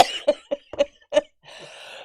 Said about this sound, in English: Okay, I'm so sorry I coughed.